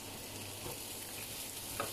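Prawns frying in a pan for paella, a faint steady sizzle with a couple of soft stirring touches, quiet and uninterrupted by talk.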